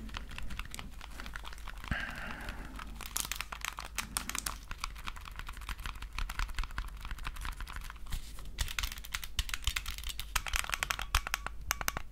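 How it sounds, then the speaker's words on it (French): Rapid small plastic clicks and light rattling close up from Zelda-edition Nintendo Switch Joy-Con controllers, with a faint springy snap of the internal spring now and then, no voices. "On entend même le petit ressort."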